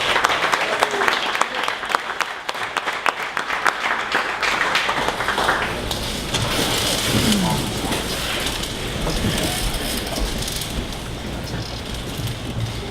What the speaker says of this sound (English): we all stand up and give a huge round of applause